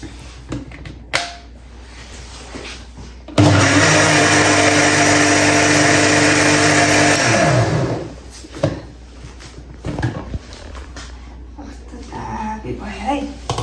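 An electric blender grinds a thick homemade smoothie with a loud, steady whirr lasting several seconds, then winds down. Someone talks before and after, with kitchen clatter around it.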